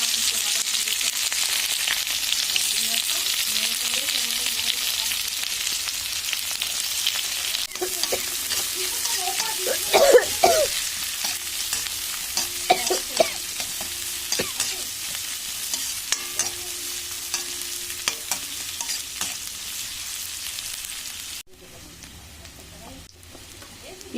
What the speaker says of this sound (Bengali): এবার দিয়ে দিচ্ছি আমি পেঁয়াজ আর কাঁচা লঙ্কা।